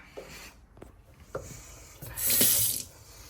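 A tap runs into a small hotel kitchen sink: brief splashes and rubbing at first, then a louder burst of running water near the end, close and clear with no talk.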